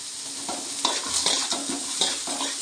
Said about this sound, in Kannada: ಇದನ್ನು ಎಣ್ಣೆಯಲ್ಲಿ ಫ್ರೈ ಮಾಡ್ಕೊಳ್ಳೋಣ.